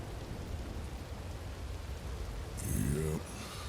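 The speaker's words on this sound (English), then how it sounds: "Quite the rain all of a sudden." Rain falls with low, rolling thunder in the video game RedM, a soft, steady wash of noise over a deep rumble, and a voice speaks briefly near the end.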